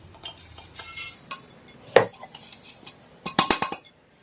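Ground ingredients for flaxseed laddu are tipped into a big metal vessel, giving scattered clinks and scrapes, one sharp knock midway, then a quick run of clatters near the end, with no talk.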